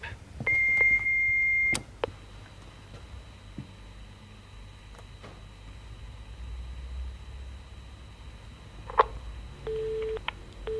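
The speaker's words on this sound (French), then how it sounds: "Laissez-moi un message après le bip." Several electronic tones sound against a quiet hiss: a sustained beep near the start, a short later tone, and a few brief clicks and bleeps.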